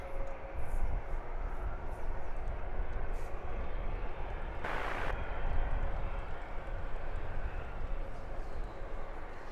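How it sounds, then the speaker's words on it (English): A Ryanair Boeing 737 MAX 8 jet airliner rumbles steadily at London Luton Airport, a broad continuous engine roar held at moderate distance throughout, with a brief hissing burst near the middle. "So the Ryanair is a 737 MAX 8. She's off to Vilnius."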